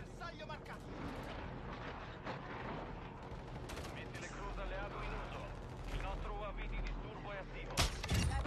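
Rapid video game gunfire from Modern Warfare 2, dense bursts and shots crackling steadily under near-constant excited talk from players, with a sharp loud blast near the end.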